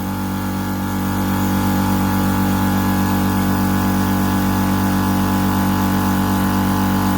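A small VEVOR 8-liter air compressor running nearby, a steady humming motor drone with a faint rhythmic pulse, brief voices speaking over it.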